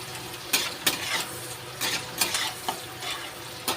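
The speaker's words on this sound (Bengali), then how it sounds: "এটা আমি ভালো করে বাদামি করে ভেজে নেব। পেঁয়াজটা আমার বাদামি হয়ে গেছে।" Onions frying in a pan until browned, with occasional stirring. A soft continuous sizzle, with several sharp scrapes and clinks of a utensil against the pan at irregular intervals, close and fairly quiet.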